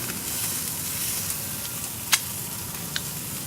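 Fresh eel, a dense fleshy fish, cooks on a barbecue with a constant soft sizzle and hiss, broken by a couple of brief crackling pops.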